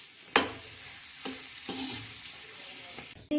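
Thick green chilli pickle cooks in a pan with a constant close sizzle, while a spoon stirs and scrapes through it in several distinct strokes.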